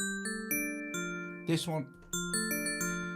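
An extended bells patch on a Yamaha MODX synthesizer rings out in struck, sustained bell tones, several notes with decaying shimmering overtones, briefly interrupted by a short spoken phrase mid-clip.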